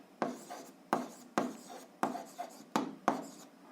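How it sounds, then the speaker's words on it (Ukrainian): Pen or chalk strokes writing out an algebra answer, six distinct scratchy bursts in an uneven rhythm, close and fairly clear, with no talk over them. "Ну що ж, записуємо відповідь, пишемо відповідь."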